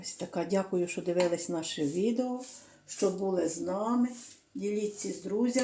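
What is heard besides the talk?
No distinct noise like a dog, phone or traffic.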